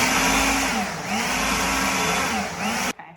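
An electric blender whirs loudly while making a matcha drink, its motor pitch sagging and recovering a couple of times as the load shifts, then cutting off abruptly near the end.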